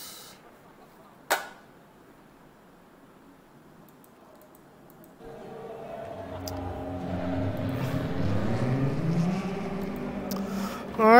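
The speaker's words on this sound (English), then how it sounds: "Just turn on my engine, swing the ignition." In RaceRoom, a race car's ignition clicks once sharply, then after a quiet spell the engine fires up into a rising, buzzing drone that grows louder and ends in a sharp rev.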